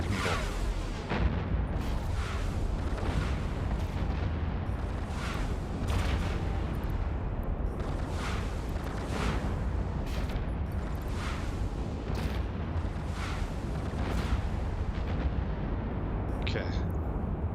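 Spaceship weapons firing in the EVE Online video game, a rapid series of booming blasts and bursts repeating every second or so over a dense rumbling background, with a voice talking throughout.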